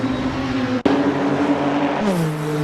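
A Lancia race car engine in a racing game, set at Le Mans 1985, drones steadily as it passes a Volvo, with a brief dropout and then a rising pitch shift near the end.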